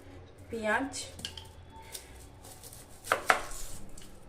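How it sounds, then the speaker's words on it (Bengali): Knife thinly slicing vegetables such as cabbage and onion in a home kitchen, a few crisp cuts clustered near the start and again toward the end, close and fairly quiet against a low room background. "ঝিরি ঝিরি করে কেটে নিচ্ছি"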